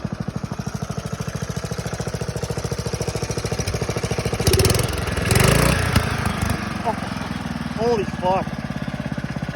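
A lawn tractor fitted with a Kohler carburetor, running slightly rich, chugs along on gravel with a rapid, steady pulsing engine beat that briefly swells louder. A voice exclaims near the end.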